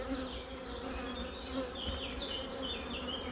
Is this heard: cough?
no